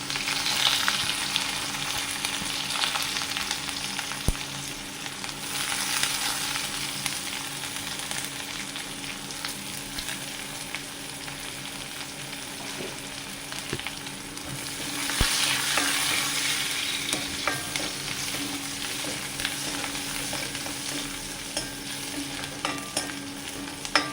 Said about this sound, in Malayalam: ചെമ്മീൻ വറുത്ത എണ്ണയിലേക്കാണ് അതൊക്കെ ഇട്ട് കൊടുത്തോക്കുന്നത്